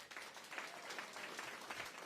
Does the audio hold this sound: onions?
no